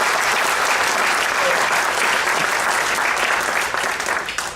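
Audience applause at a Race Unity Day celebration: a steady, dense wash of many hands clapping throughout, loud and sustained before tapering slightly at the end, with no talk over it.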